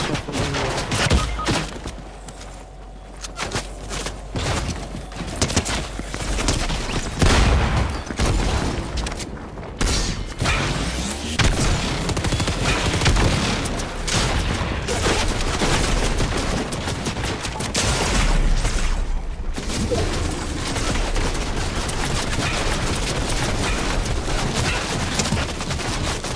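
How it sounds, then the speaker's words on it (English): Gunfire in a Fortnite Zone Wars match, dense bursts of automatic fire and booming shots that keep going without a break, loud and close, with brief lulls. "Oh my god, I'm getting shot from him."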